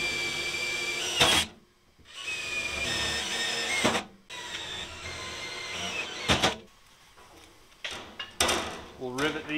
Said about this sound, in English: We'll rivet these on.